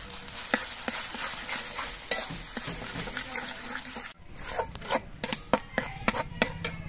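Egg curry masala with garlic and salt being stirred and scraped in a pan, soft frying hiss under the utensil strokes, close up, with quick sharper clinks in the second half.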